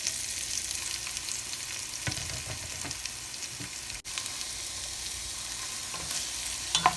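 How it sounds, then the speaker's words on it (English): Chopped vegetables sizzling steadily in hot oil in a soup pot, a dense continuous crackle with occasional stirring scrapes and small pops, no talking. "now that we let the oil get hot, we're gonna add our veggies. Hear that sizzle?"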